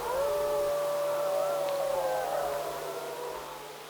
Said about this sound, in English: the bellowing screams and howls were amplified in the darkness